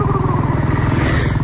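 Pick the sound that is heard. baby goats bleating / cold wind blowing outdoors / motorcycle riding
motorcycle riding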